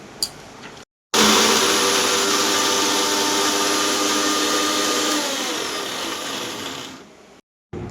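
An electric kitchen mixer-grinder running steadily on soaked chana dal (split chickpeas), a loud, continuous whirring motor drone that starts abruptly, holds for several seconds, eases slightly in pitch and stops.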